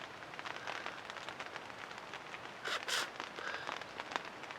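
Summer rain patters on a tent in the woods, a soft, dense crackle of drops with a few louder bursts, faint and steady without voices.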